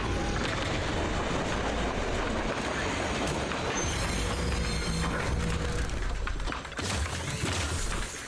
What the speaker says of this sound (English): All these trains moving at the same time.